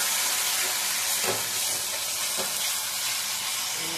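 Ingredients sauté in a small amount of oil for a pointed gourd curry, giving a steady, dense sizzle close by. Two brief stirring swishes rise above it.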